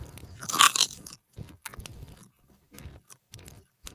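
Biting and chewing a crunchy, slightly charred hot dog cooked over a campfire: one loud crunching bite near the start, then several softer chewing crunches in an uneven rhythm, close and alone with no talk.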